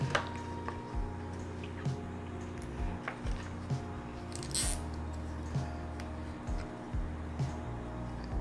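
Plastic cable ties being ratcheted tight around a Breville espresso machine filter assembly, repeated short zipping clicks at a steady rhythm roughly once a second, quiet and close with a brief louder rustle midway.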